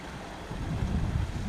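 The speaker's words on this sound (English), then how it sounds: "And pretty little waterfalls." Small waterfalls on Crowden Great Brook make a steady, broad rushing roar close by, with no voices.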